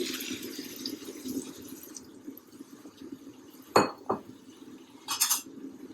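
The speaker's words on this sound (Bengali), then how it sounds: "নেড়ে দিব" A spoon stirs duck curry in a pot with a little added water, giving a soft wet swirl and a few sharp clinks against the vessel, close and without talk.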